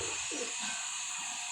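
Pigeons inside a coop coo softly a couple of times, low and muffled under a constant background hiss.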